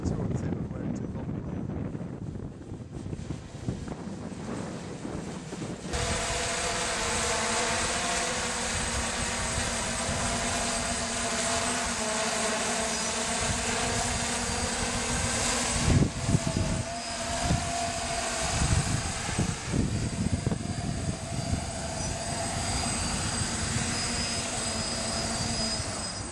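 An octocopter drone hovers and comes in to land in strong wind, a steady high whine of spinning rotors mixed with heavy gusting wind rumble across the mic.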